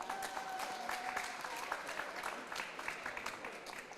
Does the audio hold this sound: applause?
yes